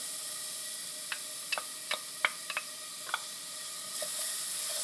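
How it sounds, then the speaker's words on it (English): Steady sizzling hiss from garlic frying in a pan, broken by a few sharp crackles and pops, with no voices. "we got a nice little happy dance going on inside that pan with the garlic. It's sizzling"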